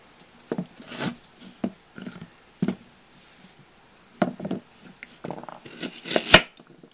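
A knife trims the ends off vegetables on a board, a scattered series of quiet, sharp taps and cuts with pauses between them.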